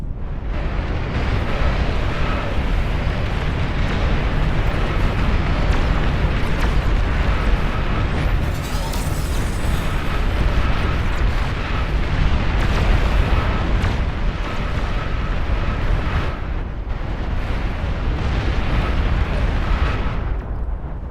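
Nuclear strikes in the real-time strategy game Beyond All Reason produce a sustained, loud, roaring blast, with a long, dense low rumble swelling and rolling continuously as several detonations overlap.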